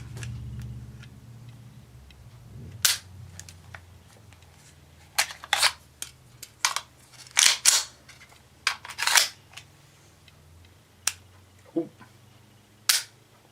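Double-action/single-action pistol with decocker safety, its trigger pulled and reset in a quiet room, producing a series of sharp, close mechanical clicks and snaps at irregular intervals over a faint background hum.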